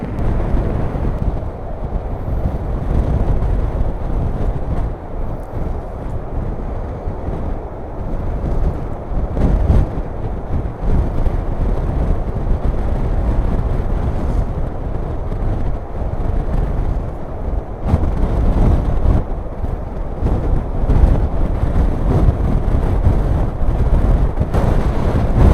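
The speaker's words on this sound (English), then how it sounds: "Windy." Strong storm wind buffets the microphone on the coast at Arbroath during Storm Babet, a continuous loud roaring rush with gusty surges throughout and no speech.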